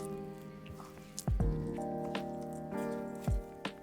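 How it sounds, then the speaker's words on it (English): Sticky sweet bun dough squished and slapped by hand, a few wet squelches and soft thuds at a slow pace, heard closely over a steady background tone. "The dough will be sticky, just be patient and knead until smooth."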